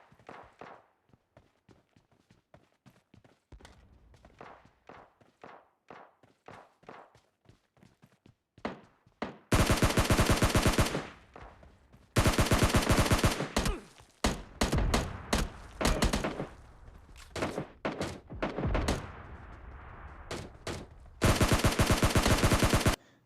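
A SCAR-L assault rifle fires in PUBG: a string of single shots comes first, then several long, loud bursts of rapid automatic fire, with brief gaps between them.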